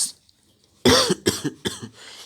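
A sudden burst of harsh coughing up close, three or four rough coughs in quick succession after a moment of quiet.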